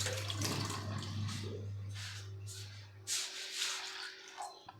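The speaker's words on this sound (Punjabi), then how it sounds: "ਥੋੜਾ ਜਿਹਾ ਪਾਣੀ ਪਾ ਦਿੰਨੀ ਆ" Water pours and splashes into a pot of moth beans for a few seconds alongside a low steady hum, then the flow fades to quieter trickling.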